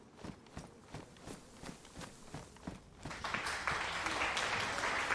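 Sparse, faint hand claps at an irregular beat grow into a fuller burst of applause, in a playful group setting in the DayZ game with other people around.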